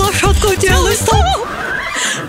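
A horse neighs in a children's dance song, with several bright whinnying calls in quick succession over a bouncy music backing, followed by softer music.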